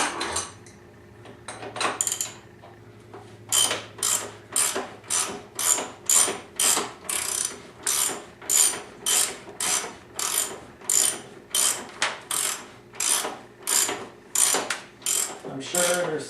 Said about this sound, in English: we're going to crank that bolt down